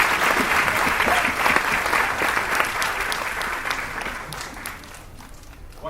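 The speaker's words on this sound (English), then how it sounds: "A round of applause." Audience applause at a gala concert, a full, steady wash of many hands clapping that gradually thins and fades over several seconds.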